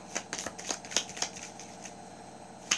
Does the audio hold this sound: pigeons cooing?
no